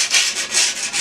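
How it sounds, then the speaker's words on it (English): Sandpaper rubs back and forth over a wooden cruiser skateboard deck in quick, loud, rhythmic strokes, close by and alone. "I'm going to sand it down here because I don't want it to get on my lens."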